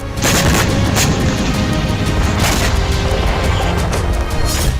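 Explosions from Hezbollah rocket and artillery fire during the Israel–Lebanon war make a loud, dense, continuous rumble. Repeated blasts and cracks punctuate it for about five seconds, with no voices.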